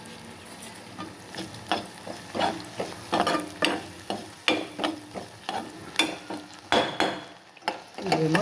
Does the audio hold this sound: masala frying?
yes